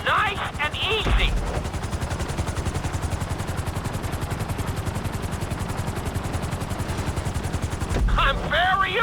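A helicopter in GTA V touches down on a landing pad, its rotor chopping in a fast, even pulse throughout, loud and close, with bursts of voice at the start and end.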